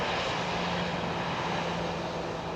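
An airplane lands on Heathrow runway 27R, its engines a loud, steady roar close by throughout, with no voices.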